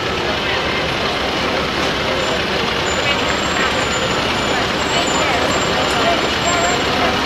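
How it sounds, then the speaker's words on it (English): An antique Ford fire truck rolls past in a Loyalty Day parade, its engine rumbling loud and steady amid continuous street and crowd noise, with a voice talking over it throughout. "Antique Ford fire truck."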